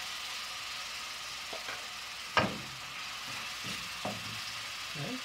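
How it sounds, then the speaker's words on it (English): Ginger garlic paste sizzles in a pan where onions were just fried for a boneless handi chicken curry. A soft, steady hiss carries a few light clinks and scrapes of a utensil. "now in the same pan I'm adding ginger garlic paste,"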